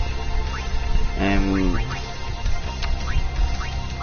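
A goose in the Final Fantasy X video game lets out a loud, honking quack over a steady backdrop of game sounds and short repeated chirps.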